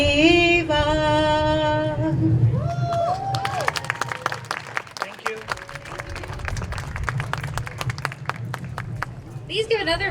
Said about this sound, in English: Please give another round of applause to the Sri Radha Krishna Temple group.